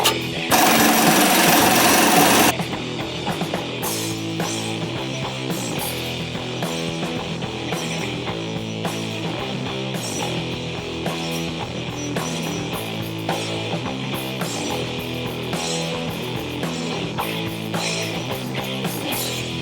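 A Snap-on MG725 or Harbor Freight Earthquake XT half-inch impact wrench hammers continuously in a loud, rapid, rattling burst after a short hiss of air, holding one steady pulsing rhythm throughout with no voices.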